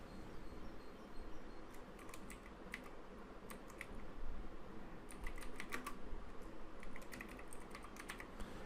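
Soft, quick clicks of a computer keyboard as words are typed into a spreadsheet, coming in scattered bursts of keystrokes over a low, steady room hiss, fairly faint and close.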